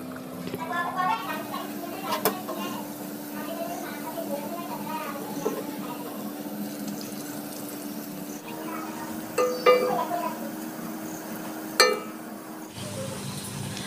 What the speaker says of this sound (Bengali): এবার আমি ডালটাকে বড়ার আকারে তেলের ভিতরে দিয়ে দিচ্ছি